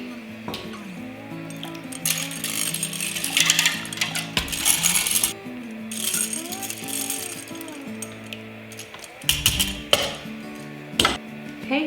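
A spoon or whisk stirs yogurt culture into raw milk in a metal Instant Pot insert, giving bursts of metallic scraping and clinking with short pauses between them. Quiet background chatter can be heard at times.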